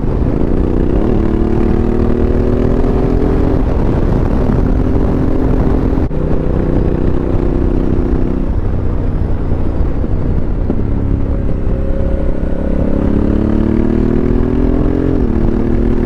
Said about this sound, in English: just listen to the exhaust and enjoy the countryside.